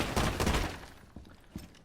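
Gunfire through a wooden cabinet at Bartlett University in Rainbow Six Siege: a quick cluster of close shots up front, then two fainter isolated shots with short gaps between them.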